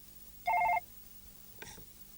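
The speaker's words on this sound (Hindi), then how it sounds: "सर, आपके लिए फोन है।" A telephone rings with one short electronic burst of warbling tone, followed by a faint click and a softer trailing ring in an otherwise quiet room.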